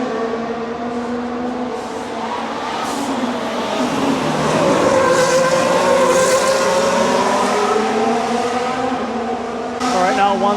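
Formula 1 cars race past at the 2023 Singapore Grand Prix night race, their high engine whine sweeping in pitch as they approach and go by, loud and continuous against a crowd murmur, with another car arriving at the end.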